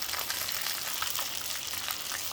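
Raw anchovies deep frying in hot oil, a dense continuous crackling sizzle heard close up with no voices over it.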